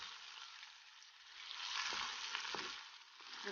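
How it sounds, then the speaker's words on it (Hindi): Chicken pieces fry in hot oil for pulao, a close, bright, steady sizzle that swells slightly midway, with a few soft stirring scrapes and no voices. "चिकन को हम अच्छी तरह फ्राई करेंगे।"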